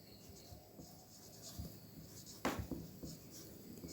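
A geometry proof being written by hand, with a steady soft scratching of pen on paper, close and quiet, with a slightly louder stroke near the end, and no talk.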